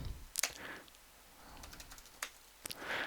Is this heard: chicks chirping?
no